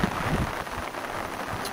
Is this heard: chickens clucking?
no